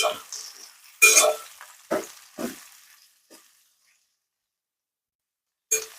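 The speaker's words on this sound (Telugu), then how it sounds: "కాకరకాయలు చూడండి మనకి సెవెంటీ పర్సెంట్ వరకు వేగిపోయాయి" Bitter gourd frying in a pan while being stirred, giving a few separate bursts of sizzle and scraping spread over several seconds, then a quiet stretch and one final burst.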